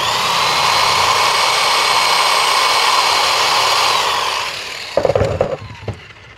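A Dongcheng DPB20C impact wrench spins freely for an RPM test, giving a loud, steady high whine that winds down near the end, followed by a few handling clatters.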